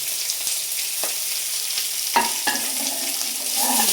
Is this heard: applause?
no